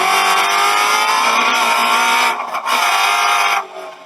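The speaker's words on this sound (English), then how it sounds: "let's just listen for that lift and listen for that throttle" A Ford Mustang GT350 race car engine at Virginia International Raceway screams at high revs, dips briefly as the throttle lifts, then roars back near full power before fading slightly at the end.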